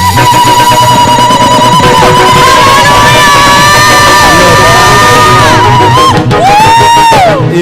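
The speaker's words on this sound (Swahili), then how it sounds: "piga shangwe na vigeregere" A church congregation at a Sunday service shouts, cheers and ululates together in a loud, sustained roar, with high trilling voices riding over the crowd throughout.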